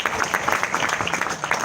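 A gathering of guests at a mass communication event gives brief, fairly loud applause with a steady, dense clapping texture as a guest is introduced.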